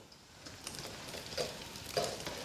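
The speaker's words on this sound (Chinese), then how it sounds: "下入肥肠煸炒。" Pork intestines dry-frying in rapeseed oil in a wok, a steady close sizzle with a few louder scraping stirs of the spatula, no talking.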